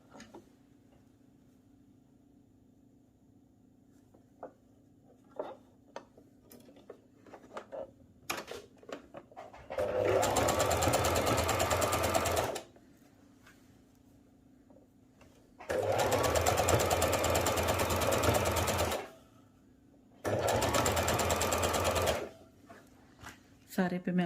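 A sewing machine stitches along the edges of a sleeve piece in three loud whirring bursts of a few seconds each, separated by quiet pauses with small handling clicks and soft movement.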